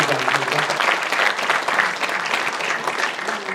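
Audience applause at a ceremony for a city sports council chairman's inauguration, a dense, loud, steady clapping from a crowd throughout the short stretch.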